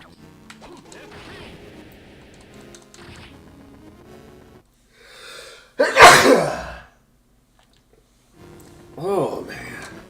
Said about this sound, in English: I've been having a lot of strong sneezes